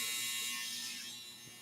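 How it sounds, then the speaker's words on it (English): A clothes dryer's buzzer sounds as a steady, shrill electronic tone held for the whole short stretch, fairly faint and tapering slightly at the end, with no talk. "get ready for the loudest buzzer in the world"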